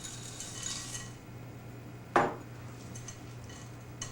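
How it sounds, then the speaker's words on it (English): Semi-sweet chocolate chips are stirred into cookie dough in a bowl: a quiet soft scrape, then a single sharp clink of a spoon against the bowl, with faint rustling afterward and no talking. "I'm just going to stir those in."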